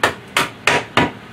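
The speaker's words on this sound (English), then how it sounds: "I'm going to do the same thing with another one. And I'm going to hammer it." A hammer drives a connector down against the floor with four sharp, evenly spaced blows, each a crisp close knock that quickly fades before the next.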